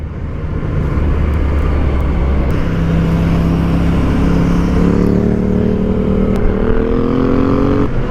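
A Yamaha MT-09 motorcycle fitted with a Termignoni slip-on carbon exhaust runs loud and close, its engine note rising steadily as the revs climb.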